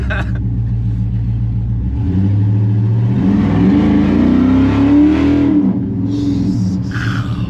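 An LS V8-swapped Chevy C10 pickup truck engine revs up loudly and close while driving, climbing in pitch then easing off, with a deep rumble throughout and no voices.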